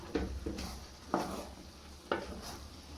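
Leeks being stirred into fried rice with shrimp and beef in a pan, a few soft spatula scrapes over a faint sizzle, quiet and close without any speech.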